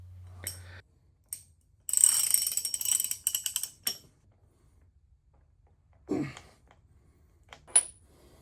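Nuts being tightened on a metal swivel fixture while fitting a cylinder and steam chest wedge for a steam locomotive: short bursts of rapid metallic ratcheting clicks and a few sharp clanks, separated by quiet pauses.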